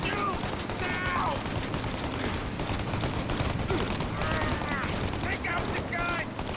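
Sustained gunfire in the Mafia Definitive Edition shootout, dense volleys of loud shots running without pause, with shouted voices breaking through the din.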